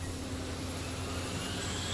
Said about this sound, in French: Les moteurs des avions de chasse rugissent sur le pont du porte-avions américain USS Independence.